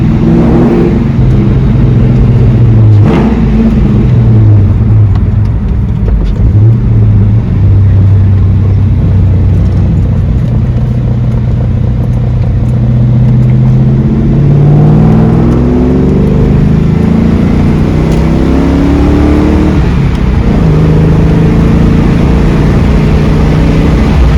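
A 2002 Ford Mustang GT's V8 engine drones steadily while the car drives on the road. The loud, continuous interior rumble rises and falls in pitch as it accelerates, with no talking.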